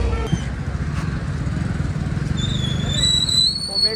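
A motorcycle passes along a roadside with a steady, close engine rumble throughout, and a high whining tone rises near the end.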